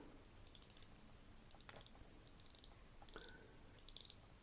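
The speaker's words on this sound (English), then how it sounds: "So let's have a look at the bezel action." A watch bezel is rotated in bursts of quick, crisp ratcheting clicks, several short runs of close, fairly faint ticks separated by brief pauses.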